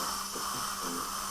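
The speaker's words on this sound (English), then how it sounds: "this is a flattening drill to flatten the crestal irregular alveolar bone" Dental flattening drill leveling irregular crestal alveolar bone during guided implant surgery, a steady high-pitched whine with a hissing edge, faint and continuous.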